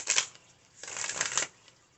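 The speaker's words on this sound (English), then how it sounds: "Let me shuffle this way too." A deck of tarot cards is shuffled twice in quick riffling bursts, soft and close, with a short quiet gap between them and no talking.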